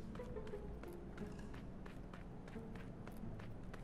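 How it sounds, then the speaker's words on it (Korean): Footsteps in a video game, a faint and steady patter of quick light steps running on under a low background bed, with no talking. "발소리 정확하게 저기서 멈췄거든."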